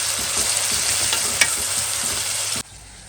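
Onions frying in hot oil until brown for a prawn biryani, a steady dense sizzle with faint stirring scrapes, a single sharp clink near the middle, then cutting abruptly to a quieter hiss at the end.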